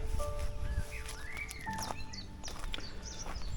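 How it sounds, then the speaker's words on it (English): Birds chirp and whistle with short rising and falling calls, fairly faint, in a garden in France, against a soft outdoor background with low rumbling noise. "No doubt you can hear the birds again"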